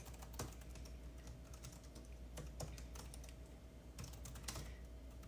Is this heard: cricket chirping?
no